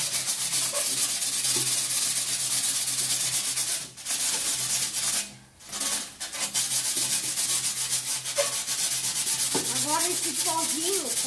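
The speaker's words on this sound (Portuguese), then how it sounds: "é essa lixa mesmo" Steady, close scraping of sandpaper rubbed by hand across a surface during a family home renovation, continuous gritty strokes with a brief pause midway and a faint whistle-like tone near the end.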